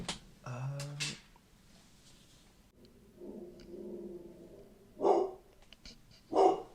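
A dog gives a few barks indoors, one sharp burst early and then two separate barks near the end, with quiet background sounds between.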